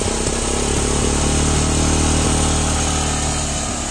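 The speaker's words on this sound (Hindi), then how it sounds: "ये इसका ओरिजिनल साउंड है, ये इसका ओरिजिनल एग्जॉस्ट नोट है" A Honda Impulse dirt bike idles close by through its original stock exhaust, a steady, loud, buzzy engine note that holds even for a few seconds with no talking.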